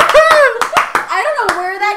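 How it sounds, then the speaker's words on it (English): Several people clap in a brief, scattered burst on a podcast, mixed with overlapping voices talking and laughing close to the microphone. "Everyone clap for Joseph."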